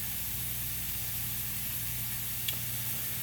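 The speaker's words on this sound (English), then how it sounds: "Now we're going to check on our pancetta. Starting to brown nicely in there." Pancetta browning in a pan for carbonara gives a steady, soft sizzling hiss over a low hum, faint and continuous, with one brief tap near the end and no voices.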